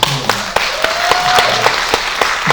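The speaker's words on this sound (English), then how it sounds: "he deserved a round of applause." Audience applause at a Kennedy Center event, a dense steady clapping crowd with sharp individual claps standing out, loud and close, lasting throughout.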